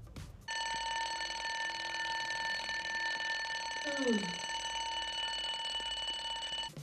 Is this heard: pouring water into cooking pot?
no